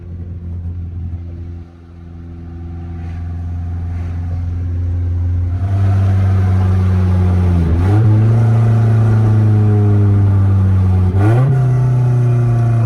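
A car with its top off driving at speed, a loud steady engine drone and wind roar that swells as it accelerates, with a couple of brief pitch dips where gears shift.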